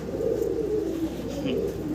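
A big exhibition fancy pigeon with a thick beak gives a steady low cooing, close and continuous for a couple of seconds with a faint background hum.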